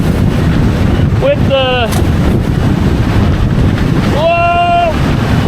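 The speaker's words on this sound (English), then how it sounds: "Oh, big gust, big gust!" Strong wind gust roaring across the microphone while windfoiling on open water, a constant loud buffeting rush with brief vocal exclamations over it.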